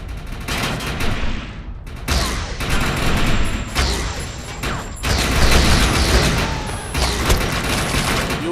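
Submachine gun fire from the video game Defiance, loud rapid automatic bursts with brief pauses between them, blended with game effects and booms throughout.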